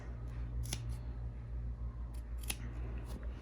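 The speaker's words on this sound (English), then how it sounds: "use regular shears and just cut notches into the fabric. So you can cut little slits like this" Regular fabric shears snip notches into fabric for a baby teether toy, a few crisp close cuts spaced out over a low steady background hum.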